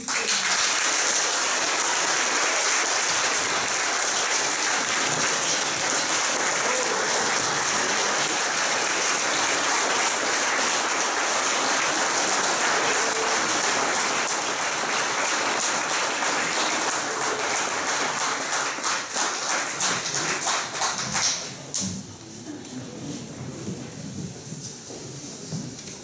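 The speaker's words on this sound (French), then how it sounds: "Maintenant, applaudissons chaleureusement tous nos diplômés." A large audience applauds graduates at a college graduation ceremony in Kapuskasing, a loud sustained roar of many hands clapping that holds for about twenty seconds before thinning and fading out.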